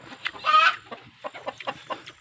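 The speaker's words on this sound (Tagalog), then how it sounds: "Andun yung inahin." A mother hen clucking close by, a series of short soft clucks with one louder drawn-out squawk near the start, alone with no talk.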